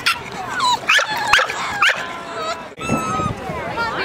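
Many dogs barking, yipping and whimpering at a crowded outdoor spring dog event in gardens, with overlapping close barks over a busy background of other dogs and people.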